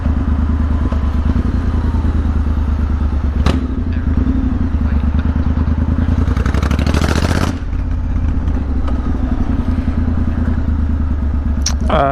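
A motorbike riding along an English countryside road, a close, steady engine drone with wind rumble throughout and a brief surge in revs midway.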